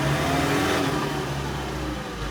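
A John Deere 4066R compact tractor's engine revs up as the throttle opens, a loud, steady mid-pitched drone with a deep rumble, close by and continuous with no voices over it.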